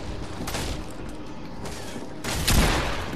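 Gunfire crackles in the Fortnite video game as a few sharp bursts of shots over muffled game noise, with a louder boom near the end.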